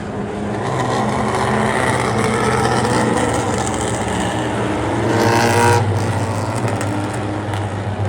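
A pack of race cars roars around the oval at Kalamazoo Speedway, a steady loud engine drone with one car swelling past nearby before the sound settles back into the distant field.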